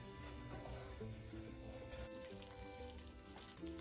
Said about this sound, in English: So we're just gonna stir this and brown it